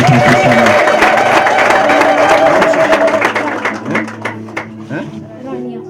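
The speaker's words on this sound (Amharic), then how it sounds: "ጭብጨባችሁ ይሰማል።" A church congregation breaks into loud, dense applause with some cheering, close and full at first, then thinning into scattered claps and fading toward the end.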